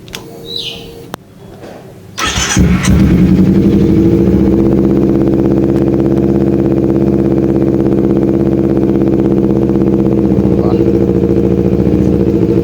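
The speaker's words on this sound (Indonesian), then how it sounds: "kita langsung cek sound aja kayak gimana suaranya nih knalpot Proliner nih di Ninja 250 Fi" A Kawasaki Ninja 250 FI engine starts after a brief crank, then settles into a loud, throaty idle from a deep Pro Liner aftermarket exhaust, close by and steady.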